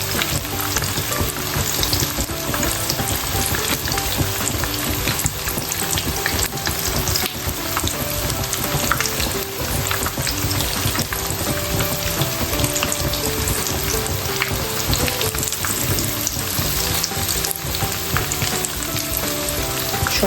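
Stuffed potatoes frying in hot oil in a home kitchen pan give a steady, dense sizzle and crackle that runs without a break and stays close and fairly loud, with no voices.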